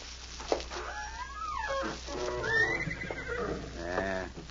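A horse in a stall whinnies and snorts up close, with a long wavering neigh and a shorter call after, in an old radio mystery drama.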